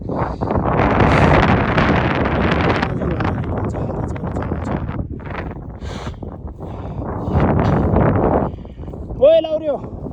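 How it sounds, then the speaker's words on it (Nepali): Strong wind blows across an open hilltop, buffeting the microphone in loud, gusty rushes that rise and fade, with people talking over it. "यस्तो हावा चलेको छ।"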